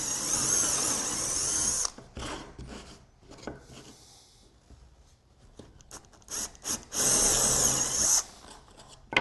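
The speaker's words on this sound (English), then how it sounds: "lay it over the top of all the other triangles and drill through all of them" A power drill bores through a stack of thin wooden bunting triangles laid one over another, loud whining bursts near the start and end with quieter handling and scraping noises between, close by and with no talk.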